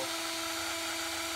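Electric drill on speed setting 2 spinning an Arctic Cat snowmobile speedometer cable to rewind the odometer, a steady high whine with a constant pitch, close and loud.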